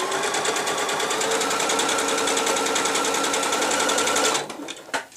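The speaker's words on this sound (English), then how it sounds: "Sew down to the second mark, back tack, and then change my stitch down to the smaller length again." A sewing machine stitches a zip into a cotton cushion cover, a fast, even mechanical rattle close by that runs for about four seconds before stopping, followed by a few small handling clicks.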